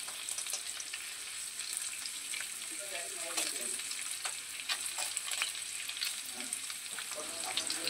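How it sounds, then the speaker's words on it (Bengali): Paneer cubes frying lightly in ghee for a meatless Durga Shashthi milk-paneer dish, a steady close sizzle and crackle with occasional stirring scrapes throughout. "হালকা একটু ঘিয়ে ভেজে নেব"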